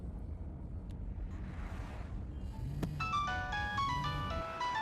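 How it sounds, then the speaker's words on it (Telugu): A mobile phone ringtone plays a bright melodic electronic tune in a busy shopping mall, starting midway and ringing loudly over steady ambient crowd and background noise. "అతను ఫోన్ రింగ్ అవుతుంది."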